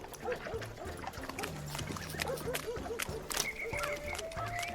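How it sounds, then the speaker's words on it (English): In a video game, a pig grunts and squeals repeatedly in mud amid a busy mix of animal noises, with no talking. "It's a pig in mud."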